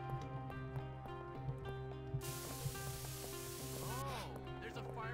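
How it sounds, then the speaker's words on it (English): Fire extinguisher in the video game Bully, a loud broad hissing spray that bursts in partway through and runs for about two seconds over game music and sound effects. "Keep spraying until the furnace cools down."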